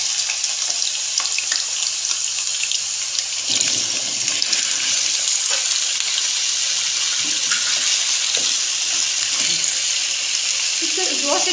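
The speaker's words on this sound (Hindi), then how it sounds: "ऑयल हमारा गर्म हो गया। इसके अंदर जो मैंने 1 किलो आलू क्यूब्स में काटे थे ये डाल देंगे।" A kilo of cubed potatoes fries in a cup of hot oil in a kadai, giving a loud, continuous hiss and sizzle with occasional crackles and spatters. It holds steady throughout, with no speech.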